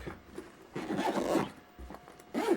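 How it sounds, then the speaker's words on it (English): A zipper is pulled shut on the carrying case of an AUXITO J503 jump starter, giving a few close, scratchy zipping strokes in short bursts with brief pauses between. "I'm just going to zip this up real quick."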